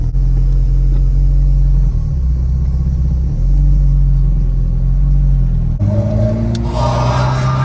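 A Honda Civic with a swapped K20 engine rumbles loudly from inside the car, with low engine tones stepping between gears before the revs climb sharply near the end.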